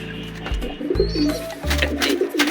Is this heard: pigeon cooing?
yes